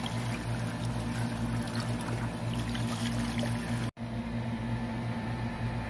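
Water from a garden hose on a moderate flow fills and rinses out the inside of an HVAC compressor, a steady close rushing pour with a low hum, briefly cut off near the end before running on.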